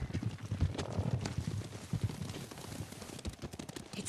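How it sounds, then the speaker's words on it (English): Several horses gallop across open ground in the video game Ghost of Tsushima, a close, loud, dense drumming of hooves with overlapping clip-clop beats throughout, and no talking. "Horses, they're coming for us."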